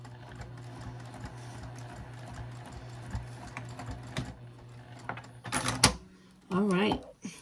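Sewing machine running basting stitches on a zipper pouch, a quick rattling mechanical chatter building in bursts, with a voice speaking in the final seconds.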